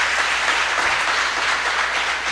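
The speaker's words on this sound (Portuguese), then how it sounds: "Pode aplaudir." A church congregation claps steadily throughout, a dense, sustained wash of applause with no voices breaking through.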